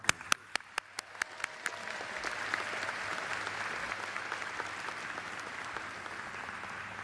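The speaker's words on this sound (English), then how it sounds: "give your loved ones a big round of applause" A few scattered, sharp claps at a graduation commencement quickly swell into broad crowd applause, steady and fairly distant in a large hall.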